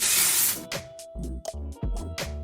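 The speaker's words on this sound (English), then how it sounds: "So I am spraying this throughout my entire head of hair, obviously." A long hiss of dry shampoo spray into hair first, then a few short bursts follow under a quiet voice and some handling noise.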